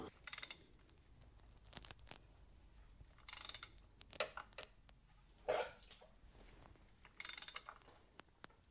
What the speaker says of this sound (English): So I'm gonna have to turn that to turning the crankshaft.